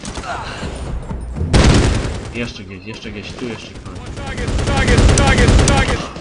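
Gunfire in the video game Medal of Honor Warfighter, loud bursts of rifle shots and booms that come and go while someone talks over the fighting.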